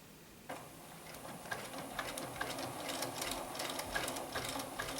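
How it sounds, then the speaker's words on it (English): A home sewing machine runs steadily for several seconds making a single stitch, its soft rhythmic ticking and mechanical whir quiet and close. "I'm going to just stitch one stitch out"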